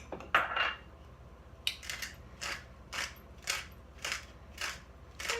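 A pepper grinder twisted over burger mixture for fresh black pepper, giving a run of about eight crisp grinding clicks in a steady rhythm, close and moderately loud, with no one talking.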